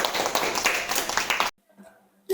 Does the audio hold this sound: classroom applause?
yes